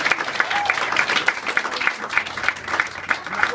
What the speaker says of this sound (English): How about a round of applause for Assemblyman Engelbright?